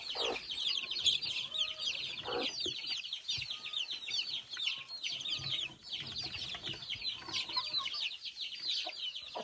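Chickens cluck constantly and busily on a small farm, with overlapping calls from a flock close by, and no voices are heard over them.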